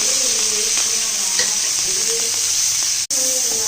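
Mustard seeds, cumin, curry leaves, green chillies and onions frying in oil for an okra curry give a steady, loud sizzle with faint stirring scrapes, broken by one brief dropout near the end.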